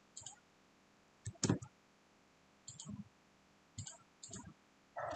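Quiet computer mouse clicks while working in Solidworks 2022, sparse single and paired clicks coming close up at irregular intervals, with no talk over them.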